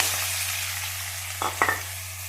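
Mustard seeds, cumin, green chillies, ginger-garlic paste and onion frying in hot oil for egg masala, a steady soft sizzle with a low hum beneath and two brief scraping stirs near the end.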